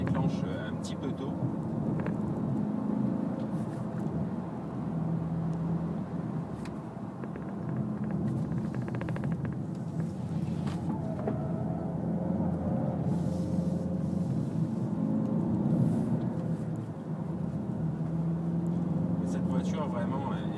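A Hyundai i40 1.7 CRDi diesel sedan on the road, its steady low cabin rumble and tyre noise running continuously beneath someone talking throughout.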